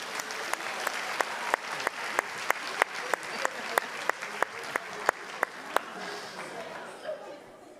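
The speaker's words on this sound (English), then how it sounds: "Let's give them a round of applause" A school audience applauds the 7th grade team at an academic bowl. The clapping is steady and sustained, with regular sharp claps standing out, and it fades away near the end.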